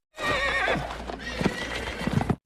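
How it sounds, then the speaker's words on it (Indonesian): A panicked horse in the 2014 film Pompeii, frightened after an earthquake, gives a long shrill whinny over pounding hoofbeats and commotion, loud and close throughout. "Pada waktu itu kuda kesayangan Cassia mengamuk dan tidak bisa dikendalikan."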